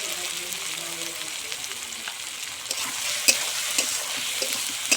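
Ginger paste and chili paste fry in a pan under a steady sizzle, with soft stirring scrapes and a few sharp clicks of a utensil on metal, close and alone.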